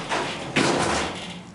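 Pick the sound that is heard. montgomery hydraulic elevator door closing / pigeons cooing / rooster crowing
montgomery hydraulic elevator door closing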